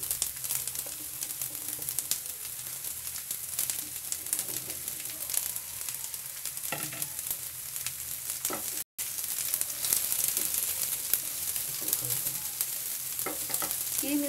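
Mushroom pieces sizzle and fry steadily in a curry mixture, with a continuous hiss and occasional stirring scrapes throughout, close and fairly loud.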